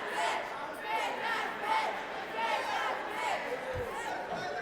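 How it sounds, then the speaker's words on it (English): A wrestling crowd chants in a rhythmic, repeated pattern, the voices rising and falling about every second across the whole span, loud and reverberant in an arena. "this crowd is calling Matt Cross a bitch"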